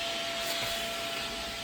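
A vacuum cleaner runs with a steady, hissing roar and a constant high whine, continuous and fairly faint throughout.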